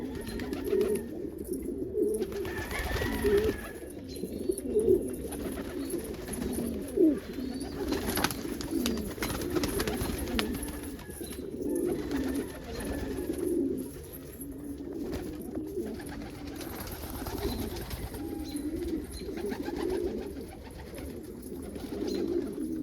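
Young pigeons coo steadily inside a loft, a dense layer of overlapping low, throaty calls running continuously, with occasional brief wing flutters and light movement noises close by.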